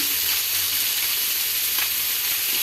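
Thin batter sizzles and hisses steadily on a hot wood-fired griddle pan, a close, continuous frying crackle with no voices.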